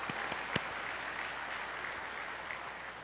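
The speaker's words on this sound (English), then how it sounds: "Give her a round of applause." Conference keynote audience applauding a participant, a dense, even wash of clapping from a crowd heard at a moderate distance, with a few sharper individual claps standing out early on.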